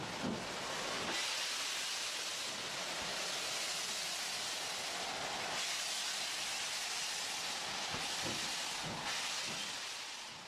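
A Stanier Black Five steam locomotive giving off a loud, steady steam hiss that swells and eases over about ten seconds, close and broad, with faint knocks beneath.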